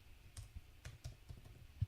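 Typing on a computer keyboard while entering a file name: a handful of quiet, irregular key clicks spread across a couple of seconds, close and soft, with no voices.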